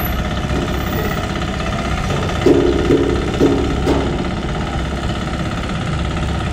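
Farm machine engine running steadily in a rice paddy, a loud continuous mechanical rumble with knocking, jackhammer-like pulsing and a few brief louder surges, no talk.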